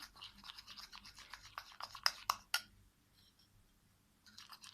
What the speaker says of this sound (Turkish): Şöyle bütün malzemeleri iyice karıştırıyorum. Krem kıvamına getiriyorum.